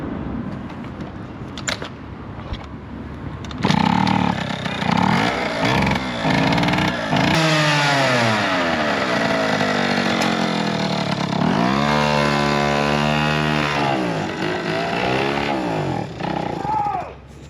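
An old, long-neglected scooter engine is held at wide open throttle, a loud buzzing two-stroke-like wail that rises and falls in pitch, with voices talking over it at points.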